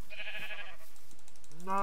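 Cattle lowing in a video game: a short nasal animal call up front, a quiet gap, then another rising call beginning at the very end, the sounds fairly close and clear.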